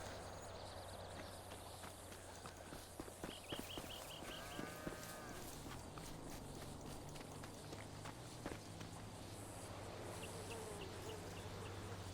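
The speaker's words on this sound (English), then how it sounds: "this is definitely a cow farm" Cattle on a cow farm in GTA give off soft, scattered hoof thuds and shuffling footsteps with occasional faint animal calls, all fairly quiet over a constant ambient background.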